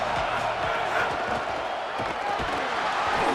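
A football stadium crowd roars steadily as a dense, loud wash of cheering and noise with no pauses, and a faint voice sits somewhere within it.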